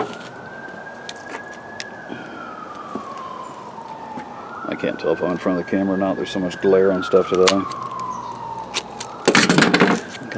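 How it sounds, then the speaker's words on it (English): A distant ambulance siren wails, rising and falling, while a person talks nearby, with a brief burst of noise near the end. "Got a lot of ambulances or something off in the distance."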